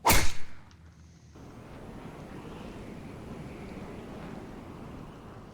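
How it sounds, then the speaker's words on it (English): A golf club swing in a golf video game, heard as one sharp whip-like swoosh and strike at the very start, followed by a soft steady airy rush of background ambience. "Beautiful tempo to that swing"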